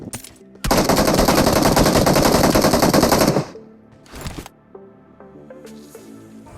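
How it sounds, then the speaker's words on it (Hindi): A long burst of rapid automatic gunfire in BGMI (PUBG Mobile), loud and continuous for about three seconds, followed by a few scattered shots and quieter game sounds. "उतने में ये गोली चलाता है।"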